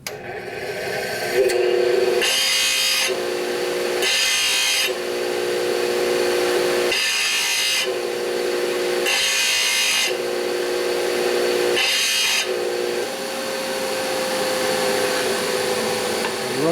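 A grinder works a 1960s Harley-Davidson four-speed transmission gear at higher speed, giving repeated loud bursts of harsh grinding against a constant motor whine, with someone talking throughout.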